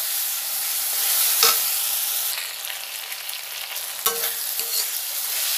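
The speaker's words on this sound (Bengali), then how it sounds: "দিয়ে ভালো করে নেড়ে চেড়ে নেবো।" Tomatoes with ground poppy seed paste and green chillies sizzling in a pan, a steady hiss of frying under occasional scraping strokes of a spoon stirring the mixture, close and even.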